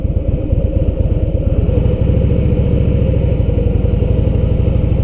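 A motorcycle in first gear pulls slowly away from a dead stop, its engine thumping in a loud, close, low and steady rhythm that settles into an even pulse.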